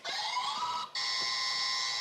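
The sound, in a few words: quiz show buzzer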